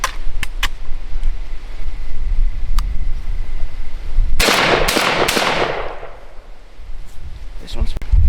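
Three loud, sharp blasts from a 12 gauge semiautomatic shotgun fired in rapid succession outdoors, with faint distant pops earlier and people talking around the shots.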